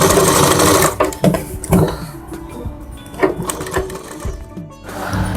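Sewing machine stitching folded fabric at home while making a palazzo, rapid mechanical needle chatter in uneven bursts that start, pause and resume, close and fairly loud.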